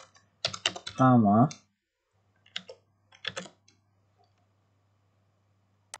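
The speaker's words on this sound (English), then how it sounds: "my typing is a little off today" Computer keyboard clicks come in brief scattered bursts between pauses, close and fairly quiet, with a short stretch of someone talking near the start.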